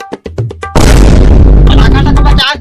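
Firecracker bursting with a loud, sharp boom that turns into a sustained crackling roar lasting about two seconds, preceded by a few brief voices.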